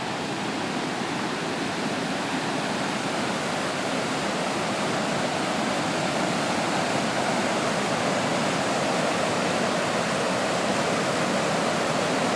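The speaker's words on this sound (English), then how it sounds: "All these little step falls that are along the river here." Small stepped waterfalls along a river give a loud, steady, close rush of falling water that fills the whole stretch without a break.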